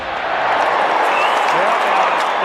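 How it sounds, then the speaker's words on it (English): Stadium crowd roaring at an Australian football match between North Melbourne and Carlton, a dense, loud, continuous wall of cheering from tens of thousands of fans with no let-up. "I've never heard the crowd so loud."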